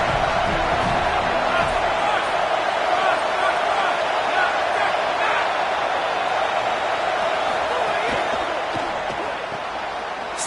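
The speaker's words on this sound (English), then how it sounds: "This crowd still bringing the intensity to open the second half." Stadium crowd noise from a college football video game, a steady, dense roar of many voices at the start of the second half, loud and continuous throughout.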